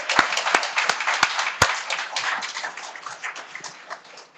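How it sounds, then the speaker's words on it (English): Audience applause at a CNA graduation ceremony, a dense burst of many hands clapping that rises sharply and then gradually thins out, with a few sharp individual claps standing out near the start. "Let's give them a round of applause for them, please."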